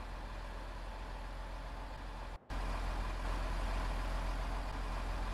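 A 600 hp MB Trac tractor engine idles in Farming Simulator 2015, a steady low diesel rumble with a constant hum; the sound cuts out for a split second midway, then resumes slightly louder.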